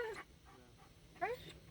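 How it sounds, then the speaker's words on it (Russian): A dog whimpers in short, high, whiny bursts, one at the start and another near the end, fairly faint against a quiet room. "А ты чё плачешь тут? Тоже в отпуск хочет собака."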